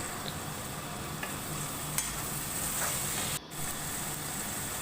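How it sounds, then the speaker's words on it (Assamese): Chopped tomato sizzles and fries in a pan of oil for a fish head curry, a steady soft crackle with occasional stirring clicks and a brief dip near the end. "এইটো বিলাহী যেতিয়ালৈকে কোমল হৈ নাযায় তেতিয়ালৈকে ভাজি ল'ম"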